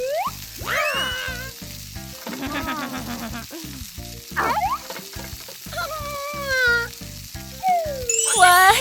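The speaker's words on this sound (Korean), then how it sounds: "다음은 기름에 튀길 차례." Breaded food coated in egg wash and breadcrumbs deep-fries in oil, a steady sizzle running under cartoon music and playful sound effects.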